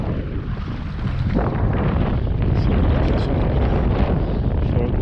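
Strong gusty wind buffets the microphone at a pike-fishing reservoir in September, a loud, continuous low roar that builds and stays heavy throughout.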